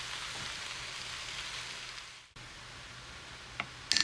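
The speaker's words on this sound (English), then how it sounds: "So we're gonna let these saute a little bit, let them cook down" Chicken breast with purple kale and Swiss chard sautéing in a pan, a steady close sizzle running throughout, dipping briefly midway, with a couple of small clicks near the end.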